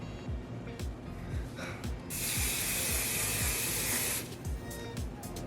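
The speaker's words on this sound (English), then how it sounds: "Let me spray it." Hairspray hisses in a long, steady spray lasting a couple of seconds, close by, with faint rustling and clicks before and after.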